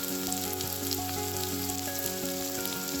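Slit green chilies fry in hot oil for a tomato curry, giving a steady close crackling sizzle like light rain that holds even throughout, with a faint tonal hum beneath and no voices.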